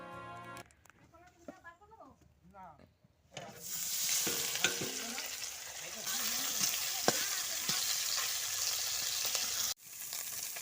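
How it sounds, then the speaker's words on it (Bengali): Fish sizzles and crackles in a frying pan with a loud, steady hiss that starts a few seconds in and holds, broken by occasional pops and scrapes. Someone speaks briefly before the frying begins. "এই মাছগুলো ভেজে নিই"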